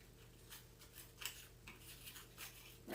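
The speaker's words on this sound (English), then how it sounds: "just snip it off" Scissors snip a glue-covered leaf off a grapevine Easter wreath, a few short quiet cuts and rustles close by, with no talking.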